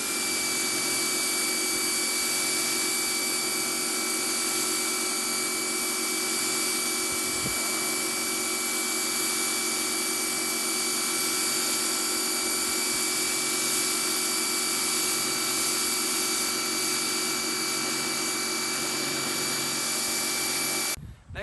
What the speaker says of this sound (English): Now we're going to test the 40-degree nozzle.